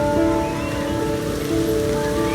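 Rain falls steadily in the video game Heavy Rain, a soft continuous patter under a low sustained musical drone, moderately quiet and unchanging throughout.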